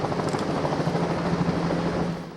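Helicopter engine and rotor drone, loud and steady with a low rumbling hum, close by for most of the stretch before fading slightly at the end; no talking.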